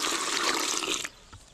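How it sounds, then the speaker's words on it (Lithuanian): Water splashes and pours steadily into fishing groundbait for bream, a rushing flow for about a second that then stops abruptly, leaving faint room noise. "Dadrėkinam vandenį."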